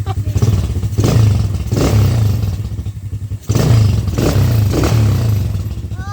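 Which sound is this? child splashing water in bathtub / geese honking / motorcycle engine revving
motorcycle engine revving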